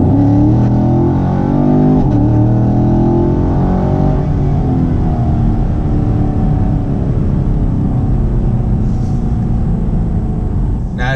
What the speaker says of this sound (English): we're gonna just do a couple revs just to see, like, wide open throttle, what it sounds like